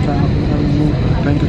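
Big airliner engines rumble loudly and steadily from inside the cabin before takeoff, a constant low roar, with a person speaking over it.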